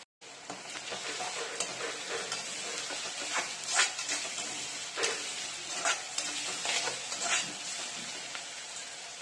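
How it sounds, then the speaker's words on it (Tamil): Onions sautéing in a pan for an avarakkai soya keema rice: a steady close sizzle of frying, with stirring scrapes and light clinks from the utensil against the pan. "வெங்காயம் நல்லா வதக்கிக்கலாம்."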